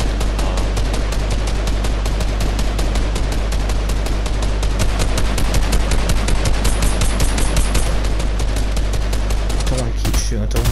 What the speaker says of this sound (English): I don't want to keep shooting, I don't want to waste my ammo.